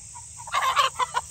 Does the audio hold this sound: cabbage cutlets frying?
no